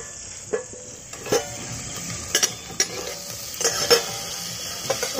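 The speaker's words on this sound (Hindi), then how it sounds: "ऐसे उलट पलट करके बैंगन को पकाएंगे।" Eggplant frying in oil while being turned over, a soft steady sizzle punctuated by several sharp scrapes and knocks of a utensil against the pan.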